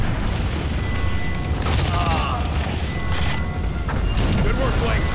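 Gunfire and explosions from the Modern Combat 4: Zero Hour mission, dense booming blasts and rattling shots layered with game dialogue and continuous battle noise.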